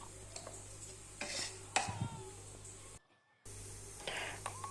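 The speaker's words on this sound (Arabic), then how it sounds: "هنا هاني جبت حبة طماطم وبديت نقطع فيها تقطيع عشوائي" A few soft knife taps on a cutting board as a tomato is chopped, spaced irregularly over steady kitchen background noise, with a brief silent gap.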